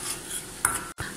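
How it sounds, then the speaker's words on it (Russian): Cocoa powder and a tablespoon of starch stirred together with a spoon in a bowl, giving a few soft scraping clinks and one sharper tap of metal against the dish, close and quiet, with no talk. "Перемешиваем какао и крахмал."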